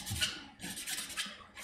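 A hand file rasps against a Sega Dreamcast console part in three close, scraping bursts with short pauses between strokes, no voices.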